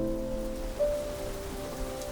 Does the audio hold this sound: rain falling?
yes